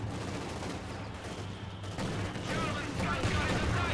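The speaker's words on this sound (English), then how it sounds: "nasty shot there by a mortar" Mortar fire and combat in Company of Heroes 2, a sequence of explosive thuds and crackling gunfire building in loudness, with a commentator talking over the battle.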